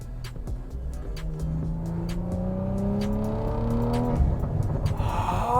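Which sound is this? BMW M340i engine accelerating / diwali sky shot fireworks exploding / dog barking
BMW M340i engine accelerating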